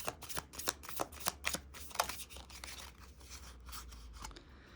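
Tarot cards being shuffled and drawn during an Aries reading, a run of quick crisp riffling slaps close by, then fainter sliding and rustling, with no talking.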